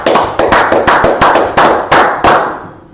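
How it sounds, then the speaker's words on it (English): Rhythmic group clapping at a closing gathering for the Feast of Dedication, about ten sharp, evenly spaced claps ringing out loudly in a reverberant room with no talking. "clap it up"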